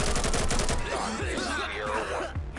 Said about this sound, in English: Oh, shots fired.